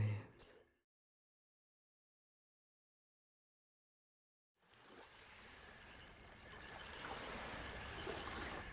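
Lake waves lap softly in a faint, steady wash that rises slowly after a brief voice and a stretch of silence.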